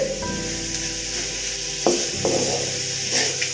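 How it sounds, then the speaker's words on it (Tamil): Cooked rice being stirred through hot oil in a pan for Tamil tamarind rice, with a steady sizzle, scraping stirs and a few sharper spoon knocks against the pan, close up and no talking. "சாதம் போட்டுட்டு இந்த மாதிரி கிளறி விடலாம்."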